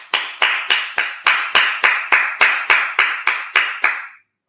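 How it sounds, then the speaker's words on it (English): About a dozen sharp, evenly spaced claps ring out at a Sabbath service in Minnesota, loud and close. The strong unison beat suggests a group clapping together, and the claps stop abruptly near the end. "clap it up"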